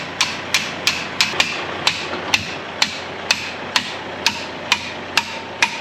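A socket on an extension is hammered to drive a bushing out of a mini lawn mower, giving a steady series of about fourteen sharp, close metallic strikes at an even rhythm, with no talking.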